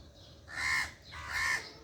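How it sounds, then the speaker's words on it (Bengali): Two loud, harsh caws from crows in the early morning sky, heard from a balcony, each call spread out and spaced a little under a second apart, with quiet background between them. "কাক ডাকছে।"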